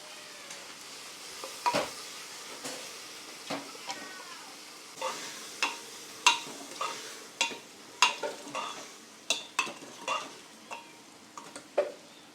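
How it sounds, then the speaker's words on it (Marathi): Onion and tomato with salt sauté in a pan: a soft sizzle runs underneath as a spatula scrapes and taps against the pan in a steady series of sharp strokes. "तर बघा आता आपला कांदा परतून झालेला आहे लालसर झालेला आहे"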